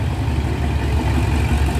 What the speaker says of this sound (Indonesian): Oh, padat kendaraan teman-teman. Truk-truk bermuatan berat overload.